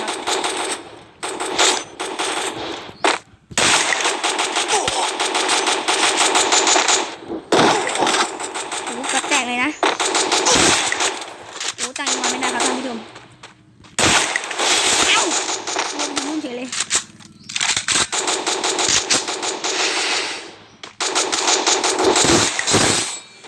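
Rapid bursts of automatic gunfire in the Free Fire mobile battle game, long loud sustained volleys separated by short pauses, with a voice talking between bursts.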